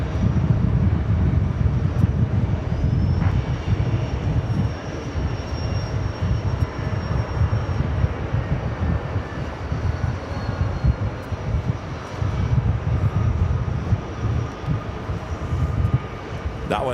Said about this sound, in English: Delta Airlines Flight 287, A330-300